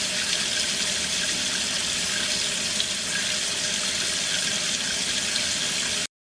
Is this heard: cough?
no